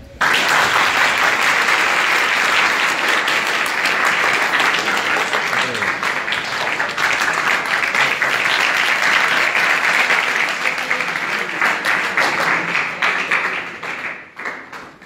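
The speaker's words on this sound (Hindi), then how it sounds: "इनके लिए जोरदार तालियां" Loud, sustained audience applause for a principal at a school function at an inter college in Handia, Prayagraj, steady dense clapping lasting about fifteen seconds and tapering slightly at the end.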